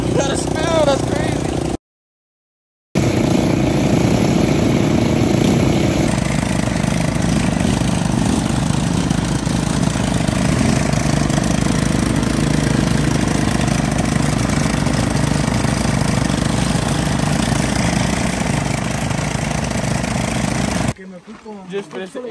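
An ATV engine runs steadily and loud at close range for a long stretch, a continuous mid-pitched drone with a rough knocking texture and one short gap of silence near the start.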